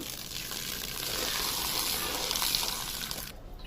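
Water gushing steadily as it is poured out of a bucket while cleaning a fish tank, swelling slightly, then cutting off abruptly near the end.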